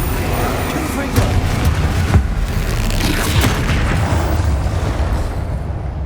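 Repeated heavy booming blasts from a Confringo fire spell in the Hogwarts Legacy video game, loud and rumbling over continuous battle noise with spoken incantations throughout.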